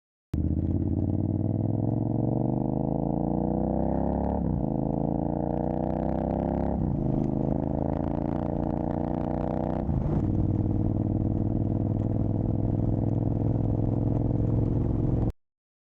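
A bobber motorcycle engine pulls through the gears on a winter road ride, a loud continuous drone that rises in pitch, drops at each shift, then settles into a steady cruise.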